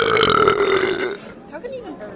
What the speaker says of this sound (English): How can you even burp?